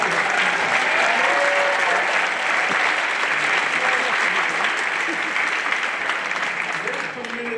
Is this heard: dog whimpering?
no